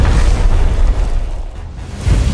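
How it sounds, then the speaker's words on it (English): Star Trek starship antimatter explosion effect: a loud, deep, rumbling blast that swells and decays over a couple of seconds, with no voices. "The antimatter explosion has created the necessary energy to free Enterprise from this temporal anchor point."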